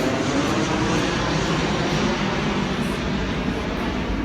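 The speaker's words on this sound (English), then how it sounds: "the airplanes always interrupt my videos" An airplane passes near an airport, a loud continuous broadband roar that holds steady throughout without fading, dense and rumbling with no speech over it.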